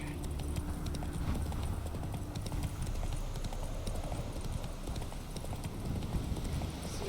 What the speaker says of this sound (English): See, Roach can go on its back legs